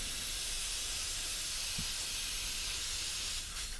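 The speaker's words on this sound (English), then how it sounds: "So I can tip that up, give it a good spray off." Cleaner sprayed onto fuel parts of a Honda HRB423 lawn mower gives a steady, close aerosol hiss that runs unbroken for the whole few seconds, with no talking.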